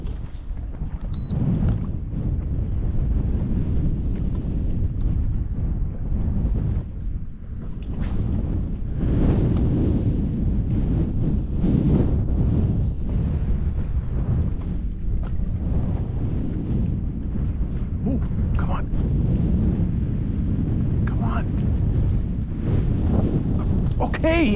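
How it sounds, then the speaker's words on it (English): Strong wind buffets a fishing boat on open water, a loud, steady rumbling roar of gusts against the microphone that continues without a break. "Wow, wind, man,"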